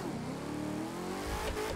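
A TVR Griffith Peppermint Edition in The Crew 2 revs hard with a manual gearbox, its engine rising and falling in pitch as a loud continuous close roar with a brief tire squeal.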